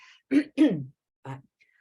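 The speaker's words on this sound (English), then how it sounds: "Just give me a little cough for a second." Two quick, close coughs followed by a softer third, with brief silences between them.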